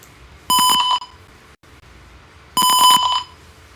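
Two loud, shrill electronic buzzer bursts from a gas and smoke fire alarm, each about half a second long, separated by a pause of quiet.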